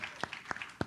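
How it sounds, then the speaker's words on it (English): Audience clapping for a student presenter at a STEAM talk, heard as a few faint, separate claps spaced about a quarter second apart. "I'm recording your claps for Tristan right now"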